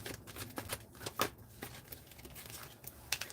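Tarot cards are shuffled by hand, a loose series of soft riffling flicks and slaps, close by and fairly quiet.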